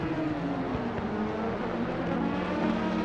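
Race car engine in a sim racing game at Donington Park, a steady loud droning roar with a slowly shifting pitch, held continuously throughout with no talk.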